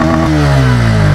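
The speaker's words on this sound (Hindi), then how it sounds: "बहुत सुंदर, एक नंबर एग्जॉस्ट नोट है" Bajaj motorcycle engine running close and loud, a dense steady exhaust drone with a slight rise in pitch as it revs, no talking.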